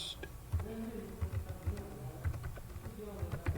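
Typing on a computer keyboard while entering text in MS Word, a steady run of quick, close key clicks with occasional heavier strokes, with no talking over it.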